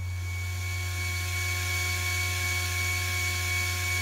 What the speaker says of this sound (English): This is the first of two shoulder cuts to be made on this lathe.